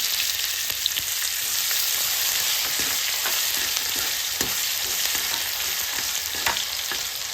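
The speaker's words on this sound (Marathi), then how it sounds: "आता आपण ह्यामध्ये टाकणार आहोत एक बारीक चिरलेला कांदा." Finely chopped onion fries loudly in hot oil with already-fried peanuts for kanda poha, a dense, constant sizzle close up with light stirring taps running through.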